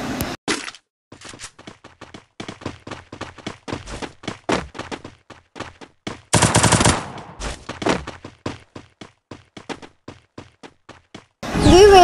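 AK rifle fire in the Free Fire game Clash Squad mode on the Bermuda Remastered map, heard as rapid, loud automatic bursts of sharp shots, with a denser blast near the middle and another burst at the end, no talk over it.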